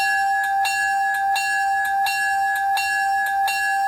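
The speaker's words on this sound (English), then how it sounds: "the bell, I just used a standard bell that came with it" Locomotive bell from an MTH Railking Santa Fe #23 model train converted to RailPro, ringing steadily in a bright, even rhythm of about two strikes per second, close and clear with no talking.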